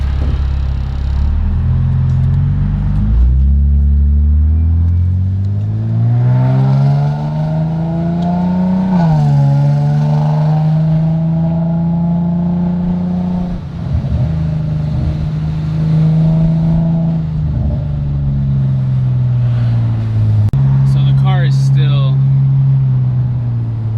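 An Infiniti G35 with a straight muffler tip driving along, its exhaust a deep, steady droning rumble that swells as it accelerates and eases off, heard from inside the car with occasional talking over it.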